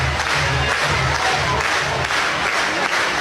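A softball stadium crowd roars and claps as a pitcher nears escaping a jam on a full count in a college super regional game, a loud sustained mass of cheering and applause filling the whole stretch.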